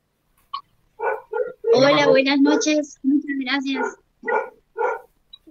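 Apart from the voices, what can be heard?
dog barking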